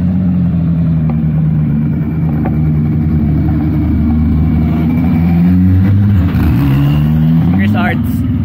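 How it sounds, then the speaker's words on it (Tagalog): A quick 8 drag racing car at the finish line of an NDRC drag race leg, its engine a steady loud mid-pitched drone with rising and falling revs, under continuous commentary. "So an example of a quick 8 car would be this one."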